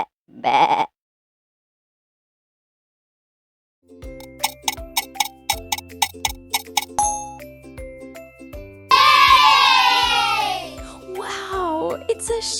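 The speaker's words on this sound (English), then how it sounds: "Wow, it's a sheep." Sheep bleating, a couple of wavering bleats near the end after a run of ringing chimes, and a voice briefly at the start.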